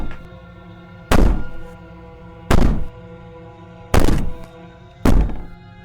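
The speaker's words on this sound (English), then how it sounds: "She sounds terrifying as she violently rattles the door." In Slay the Princess, the princess bangs violently on a door, giving four heavy, booming thuds at uneven intervals over a low, droning hum, each blow ringing out briefly.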